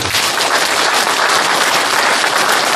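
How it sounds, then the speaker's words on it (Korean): Loud, dense applause from a crowd at a campaign office opening event, a steady roar of many hands clapping continuously throughout. "크게 박수 한번 보내시기 바랍니다"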